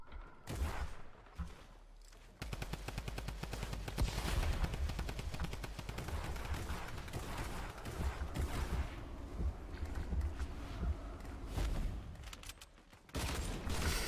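Weapon gunfire in Fortnite during a downhill race match, a dense sustained stream of rapid shots with short breaks, loud and close, with no talking.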